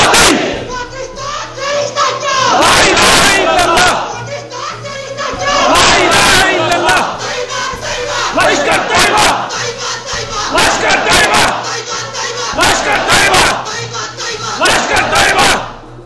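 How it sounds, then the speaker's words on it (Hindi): A large crowd chanting pro-Pakistan slogans inside a mosque, loud rhythmic shouted bursts repeating every couple of seconds, many voices in unison, close and echoing. "पाकिस्तान के नारे लगा रहे हैं"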